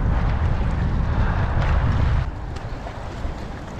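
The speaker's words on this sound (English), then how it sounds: "Really, really windy though. Do you hear it gusting in the background?" Strong wind gusts batter the microphone beside the Detroit River during a spring walleye fishing trip, a loud continuous roar that eases slightly partway through, with no speech over it.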